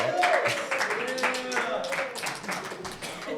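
A studio audience claps in scattered bursts, the crisp hand claps mixed beneath a host's voice talking over them for a few seconds.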